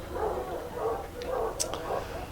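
Dogs bark outdoors in Jemez, New Mexico in a series of moderate, somewhat distant bursts, with people talking faintly in the background.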